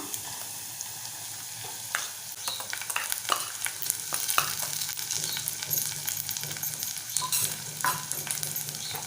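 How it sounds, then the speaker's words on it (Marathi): Soaked masoor dal being stirred and sautéed with browned onions in a pan for a Malvani-style amti, a steady close sizzle of frying broken by repeated scraping stir strokes, with no voices. "परतवून घेऊया"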